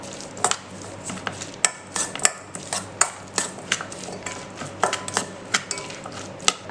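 Fried chicken shawarma filling being mixed in a metal pan, with a spoon scraping and knocking against the pan in steady repeated strokes, close and fairly loud, with no one speaking.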